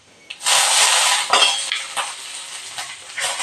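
Dried red chillies and a couple of curry leaves drop into hot oil and sizzle loudly right away, a dense crackling hiss that flares again with a few clinks of a spoon against the pan.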